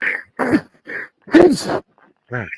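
A few short, explosive bursts close up, like a person sneezing and clearing the throat, ending with a brief voiced sound.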